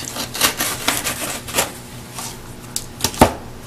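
Scissors cutting through stiffened, partly cured plaster cloth for a small mask form, a series of crisp, dry snips and crunches at close range with irregular pauses.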